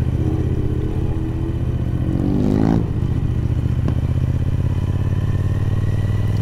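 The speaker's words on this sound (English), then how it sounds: "It's definitely got a naughty exhaust on it," A Triumph Speed Twin 1200 motorcycle with a loud aftermarket exhaust runs close by, a steady throbbing engine note with a brief rise in revs partway through.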